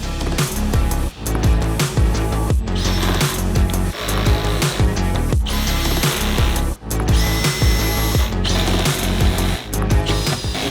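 A power drill drives screws into the wooden framing and base of a van shower, loud and close, running in long continuous whirring bursts separated by brief pauses, with no talking.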